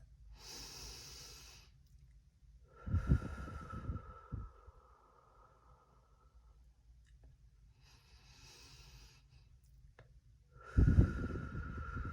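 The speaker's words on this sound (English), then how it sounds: "Let's take a couple of deep breaths." Slow, deep breaths taken during an incense cleansing, with two clearly audible, forceful inhale-and-exhale cycles spaced several seconds apart, close and quiet, separated by near silence.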